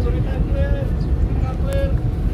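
A boat engine reversing away from a jetty gives a low, steady rumble throughout, with voices and tonal sounds over it and some wind noise.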